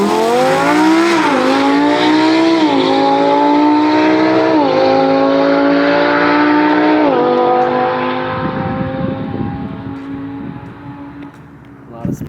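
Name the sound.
McLaren 765LT accelerating on a drag strip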